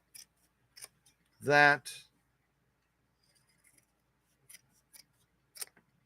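Scissors snip through sewing thread beside a classic Singer sewing machine, one crisp close cut followed by a few faint light ticks, with a short spoken word just before.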